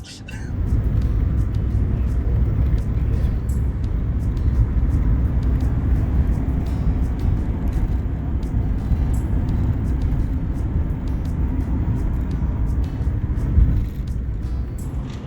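A Pontiac Firebird rumbles along on a Sunday drive, a steady low engine and road drone heard from inside the car throughout, with people talking over it.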